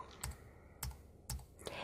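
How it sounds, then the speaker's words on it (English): Arrow keys on a computer keyboard are pressed one at a time, four quiet, close clicks spaced about half a second apart in a still room. "I'll just hit my right arrow key on my keyboard"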